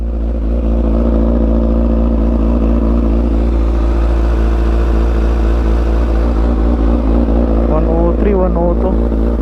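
A 2009 Kawasaki ZX6R motorcycle on a short ride, its engine a steady loud drone up close throughout, with a brief rising rev near the end and voices talking over it.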